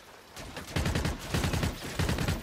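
Rapid bursts of automatic gunfire from a weapon in the video game Call of Duty: Infinite Warfare, three dense volleys rattling close and loud with no voices over them.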